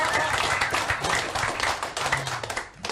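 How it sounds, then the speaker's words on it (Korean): An audience of Honam hometown association members applauds at a Korean political gathering, with brisk, dense clapping from many hands, close and lively, easing slightly toward the end. "함께 하실 분만 박수 좀 주세요."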